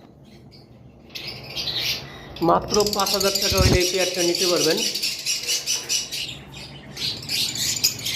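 Pet cockatiels for sale chirp and squawk in a darkened shop enclosure, a steady bright chatter running under and around a man's speech throughout.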